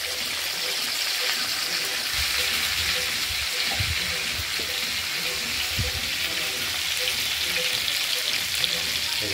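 Potatoes and pointed gourd frying in hot oil in a kadai, a steady broadband sizzle that holds loud and even throughout, with a few low thumps and stirring knocks in the middle.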